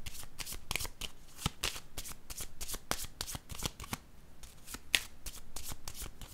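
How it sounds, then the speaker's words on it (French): Tarot-style cards riffled and shuffled by hand for a reading, a quiet, rapid run of crisp flicking snaps repeating steadily throughout with no speech. "Je vais piger une autre carte ici"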